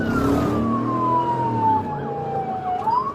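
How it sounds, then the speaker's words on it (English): A police car siren wails during a high-speed chase, its pitch sliding slowly downward and then turning back up, over steady traffic rumble. "Despite lights and sirens from multiple police units, the driver continued to flee through heavy traffic"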